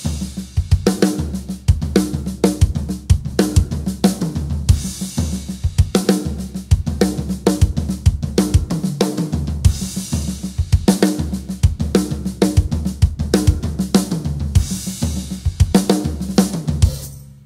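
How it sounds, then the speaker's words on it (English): Drum kit playing the intro of a song: fast, driving patterns of toms, bass drum and snare with crashing cymbals, loud and continuous throughout. "The intro part is a lot of toms and bass drum and snare drum,"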